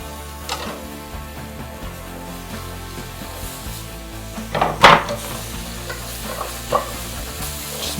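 Tomato slivers fry in a pan for a tomato and bean Mexican stew, a steady close sizzle broken by a few stirring scrapes and one louder clatter near the middle. No one speaks.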